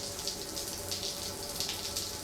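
Shower water runs steadily in Death Stranding, a continuous hissing spray of moderate loudness with slight swells, heard alone without talk.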